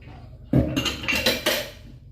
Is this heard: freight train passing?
no